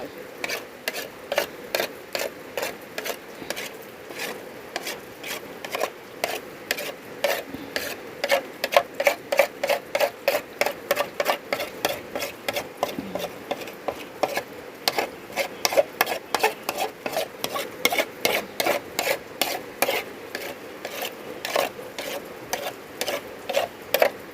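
Lao shrimp paste (kapi) simmers in a pot while being stirred: a long, regular series of scraping strokes over a low bubbling hiss that stays moderately close and continues throughout.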